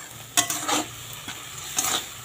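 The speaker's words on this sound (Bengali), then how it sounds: "এটা একটু ভাজা ভাজা করে নিই" Green chilies frying in a pan for a brinjal dish, a soft sizzle under a few short scraping stirs of a spatula against the metal, quiet and close.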